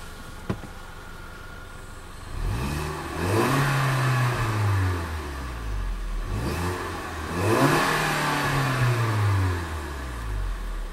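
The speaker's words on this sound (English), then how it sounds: "It's got such a unique and throaty note to it, especially when that turbo whistle is going off." 2012 Range Rover Evoque Coupe Pure Plus Dynamic with a turbo engine, starting with a short click and then revving twice in a throaty rise and fall, heard from nearby, with no talking.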